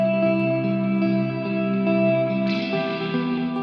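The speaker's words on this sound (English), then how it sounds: "This is what the reverb sounds without the filter." A sustained, harmonically rich chord washed in unfiltered reverb rings steadily and fairly loud for the whole stretch, its bright upper tail growing fuller around the midpoint as the notes shift.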